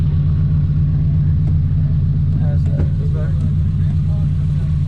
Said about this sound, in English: Running good. Custom exhaust, 2 glass packs